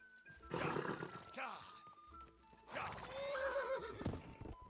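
A horse in the video game Kingdom Come 2 neighs twice, each whinny loud and shrill with trembling pitch, while hooves clip-clop nearby and someone talks briefly between the calls.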